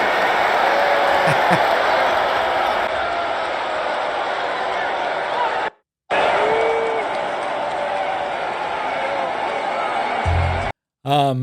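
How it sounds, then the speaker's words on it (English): A sold-out WWE arena crowd roars with booing at Trump, a dense, sustained wall of massed voices that stays loud and unbroken apart from two brief silent cuts. "This was like a wall of booing, unified in instinctive rejection"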